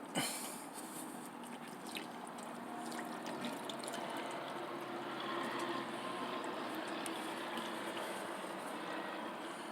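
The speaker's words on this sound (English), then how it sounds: "But that's just pouring out of there. Filling my container up." Engine oil pouring steadily out of a Chevy P30 Workhorse RV chassis with a Vortec 7400 engine into a drain container, a continuous soft liquid trickle, close and quiet, no talking.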